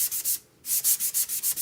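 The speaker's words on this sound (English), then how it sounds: "Then you want to take your sanding block." A sanding block rubs back and forth across a painted surface, producing a steady series of close, rhythmic scraping strokes with one brief pause.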